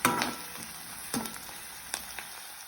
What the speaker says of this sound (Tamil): அடுத்தது பெருஞ்சீரகம், வதங்கட்டும்.